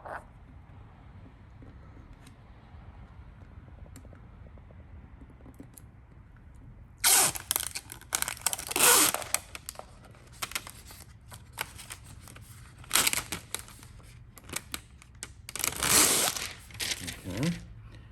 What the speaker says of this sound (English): peel your liner